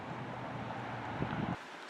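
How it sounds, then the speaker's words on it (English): Wind buffets a microphone outdoors along a riverside walk, a steady low rumbling roar that cuts off abruptly near the end. "So sorry about the wind."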